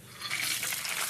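Peanuts, urad dal and chana dal sizzle steadily in hot oil in a wide pan, a dense crackling hiss that swells slightly and holds without any talk.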